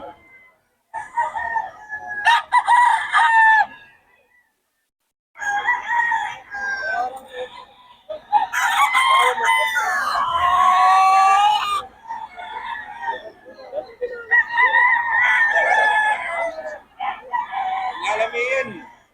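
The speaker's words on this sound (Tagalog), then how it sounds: "Daming manok ngayon." Many chickens and roosters at a poultry market in Bocaue crow and cluck loudly and close by, with overlapping cock-a-doodle-doo calls nearly filling the scene and brief quiet gaps between bursts.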